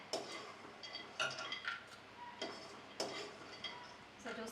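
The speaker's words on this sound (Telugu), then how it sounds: "ఇప్పుడు బాదం వేయించుకున్నామండి" Almonds being dry-roasted in a pan while making a coconut dry fruit sweet, giving faint, scattered clinks and scrapes of a utensil stirring in the pan, quiet and irregular, with some kitchen background noise.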